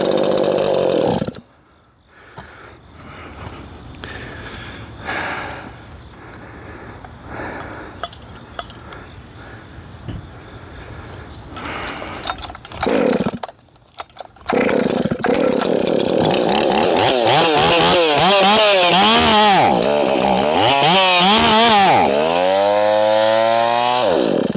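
A Holzfforma G366 chainsaw running on nitro methane fuel, first sputtering and idling unevenly with clinks and handling noise, then roaring loudly at close range with repeated revs that rise and fall in pitch.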